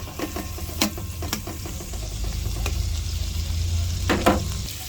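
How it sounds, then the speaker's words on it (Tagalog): Fried rice cooking in a frying pan gives a steady sizzle under a low rumble, with sharp scraping clanks of a utensil stirring against the pan at intervals. "ingay ng kawali"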